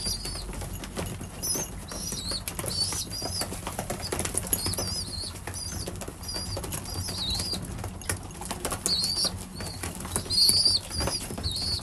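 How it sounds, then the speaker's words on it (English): Racing pigeons flap their wings in quick, repeated bursts close by, with soft cooing and chirps mixed in against a steady low background hum. "Pigeons, pigeons, pigeons, it's non-stop."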